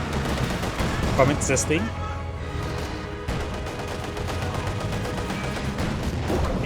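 Machine-gun fire from a German MG34 in the Company of Heroes 2 strategy game, a busy battle mix of rapid bursts and scattered shots with commentary running over it throughout.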